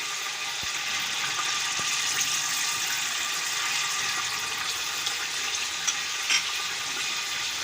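Ginger paste and garlic paste thinned with a little water fry in a pan for browning, giving a steady, close sizzle with soft crackles and occasional small pops and no voices.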